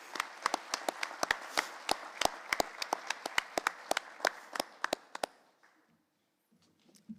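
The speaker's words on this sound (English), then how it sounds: "Let's hear a round of applause for our gold sponsor" Applause from a small audience at a leadership event honouring a sponsor: sharp, distinct individual claps, fairly sparse and close, which thin out and stop near the end, leaving near silence.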